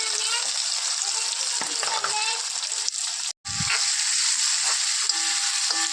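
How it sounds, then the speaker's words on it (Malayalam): Sliced onions fry with cinnamon, cardamom and clove in hot oil, giving a loud, continuous close-up sizzle and hiss with scraping stirs and a brief gap where the sizzle drops out. "അപ്പം ഇത് ചേർത്ത് കഴിഞ്ഞിട്ട് അരിഞ്ഞു വെച്ചിരിക്കുന്ന സവോള ചേർക്കുക."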